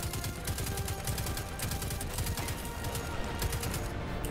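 Rapid automatic rifle fire in Destiny 2, a steady stream of closely spaced shots rattling on for several seconds at moderate loudness, with no talk over it.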